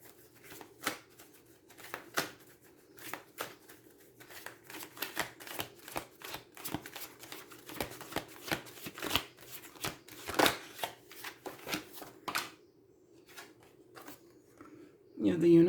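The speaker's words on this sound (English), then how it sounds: "Let's go ahead and get some tarot cards out here." A deck of tarot cards is shuffled close up, producing a series of crisp riffling flicks and soft slaps in an uneven rhythm, ending with a louder rustle.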